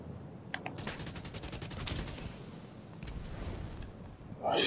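Sustained automatic gunfire in Tom Clancy's The Division 2, a rapid even stream of shots rattling for a couple of seconds, then fading into rougher ambient noise with a brief louder burst at the end.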